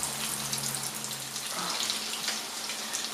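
Cauliflower cutlets fry in a pan over medium heat, making a continuous, even sizzling hiss with small crackles and no voices.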